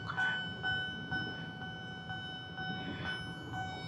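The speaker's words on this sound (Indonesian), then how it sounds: "Nah, kan baru dibilang keretanya datang." A train rolls past a railway crossing with a steady low rumble, while a crossing bell chimes in a regular repeating pattern over it, heard from a short distance with no talking.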